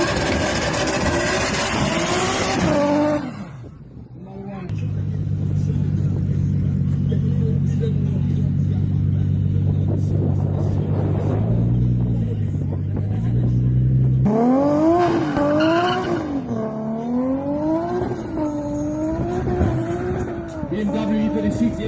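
A turbocharged BMW E36 M3 race car revs hard, its engine note climbing and falling through repeated gear changes, loud and close, with talk over parts of it.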